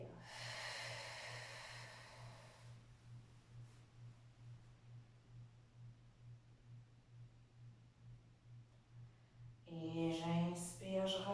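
Slow, audible breaths during a gentle evening or morning stretching routine, a long hissing exhale up close, then a quiet stretch with a steady low hum underneath before a voice speaks at the end.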